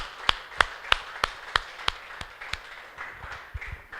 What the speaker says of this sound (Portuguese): Mais palmas, por favor, muito gostoso falar isso.